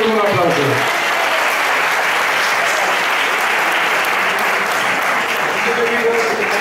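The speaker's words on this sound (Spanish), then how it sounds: "Vamos a llevarle con un aplauso." A live music crowd claps to welcome a singer to the stage, loud, full and sustained applause filling the whole stretch with a steady roar of many hands.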